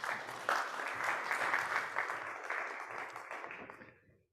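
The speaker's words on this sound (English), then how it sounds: "you got a round of applause" Audience applause after a talk at an industry conference session, a steady dense clapping wash lasting several seconds before fading out at the end.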